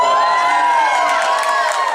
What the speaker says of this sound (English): that gets applause